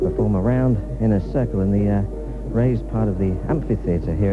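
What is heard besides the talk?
None of the usual background noises is heard.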